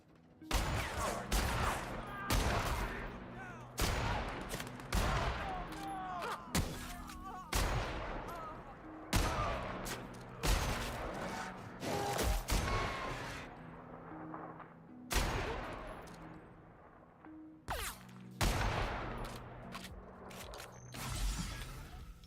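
Gunfire in the sci-fi shooter game The Outer Worlds: repeated loud, sharp shots in quick bursts and clusters, fired steadily over about twenty seconds with brief gaps between volleys.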